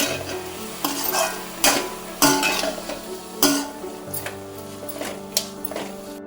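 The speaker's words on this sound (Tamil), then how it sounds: "நல்லா அந்த சர்க்கரை கேரமலைஸ் ஆகி கேரட்டோட ஜெல்லார வரையும் நல்லா வதக்கணும்." Grated carrots and caramelising sugar are stirred in a pan for carrot halwa, with repeated scraping strokes of a spoon and a steady sizzle underneath, loud and close.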